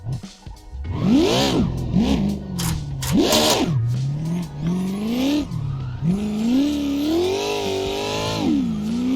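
A car drifts in the racing game Assetto Corsa, its engine rising and falling in sharp revving surges as the throttle is worked, with faint tire squeal underneath, loud and steady throughout.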